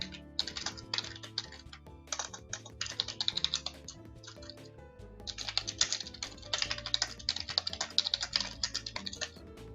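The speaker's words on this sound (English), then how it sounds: "So I'm just gonna type some things" Rapid typing on a computer keyboard, close and crisp, in dense bursts of clicking keystrokes separated by brief pauses, with no talking.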